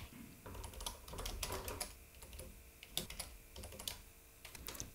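Python code typed on a computer keyboard, quick irregular clusters of clicking keystrokes with short pauses between bursts, close and fairly quiet, with no talk.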